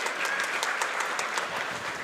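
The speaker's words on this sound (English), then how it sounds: "This is clapping" An audience at a jigsaw puzzle competition final applauds a finishing puzzler, with dense, steady clapping that continues throughout at even loudness.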